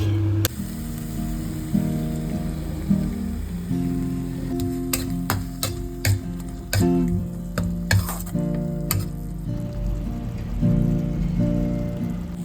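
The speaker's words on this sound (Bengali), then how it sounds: "আলুটা দিয়ে মিশিয়ে নিয়েছি মশলা দিয়ে" Potatoes and spices stirred and frying in a pan with tomato and chilli-ginger paste, steady sizzling under repeated scraping stir strokes and light utensil clinks, close and fairly loud, no talking.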